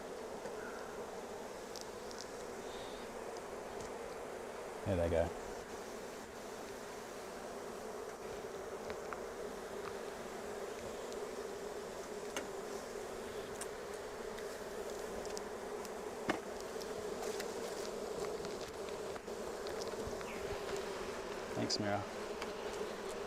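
Honeybees buzz in a steady, even drone throughout a brood inspection at an open hive, a continuous close hum with a few brief knocks and light talk from the beekeepers.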